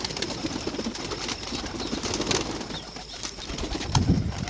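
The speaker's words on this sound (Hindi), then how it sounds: "इधर एक दो बड़ा कबूतर है" Pigeons on a rooftop loft coo softly and repeatedly amid rustling and shuffling, with a few faint wing flaps in a busy outdoor setting.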